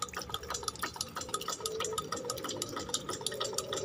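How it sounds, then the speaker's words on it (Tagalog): Hydraulic ram pump discharging water, a continuous splashing, gurgling rush of liquid with small irregular clicks and knocks, steady and moderately close. "So nagtatapon siya ng tubig."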